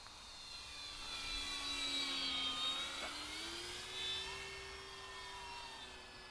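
A small electric E-Flite RV-7 RC airplane flies overhead at sunset in near-calm wind, a thin whining motor drone that swells and fades as it passes at a moderate distance.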